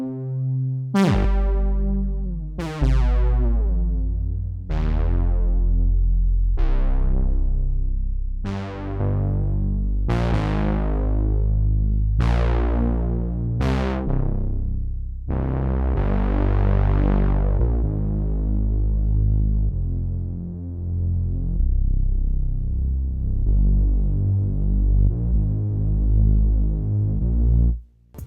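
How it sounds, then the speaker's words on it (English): A Reese bassline built from detuned saw oscillators with unison in KORG Gadget for post-dubstep, starting as a series of loud repeated struck bass notes, then swelling into a long, thick, wide sustained tone with slow throbbing movement. "Detune multiple oscillators with a saw waveform loaded and you've got a Reese bassline."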